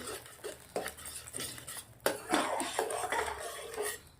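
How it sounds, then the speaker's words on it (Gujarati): A spoon scrapes and clinks against a pan while stirring a seed mixture with ghee for seed papdi, with irregular metallic taps and scrapes, a louder clatter midway, then steady stirring, fairly close and without talk. "હવે ઘી નાખ્યા પછી આવી રીતે મિક્સ કરી દેવાનું છે."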